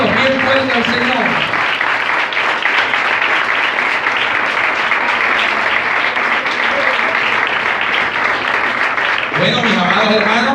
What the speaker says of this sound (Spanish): Vamos a darle un aplauso a todos.